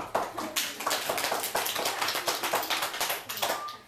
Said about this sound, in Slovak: zatleskajte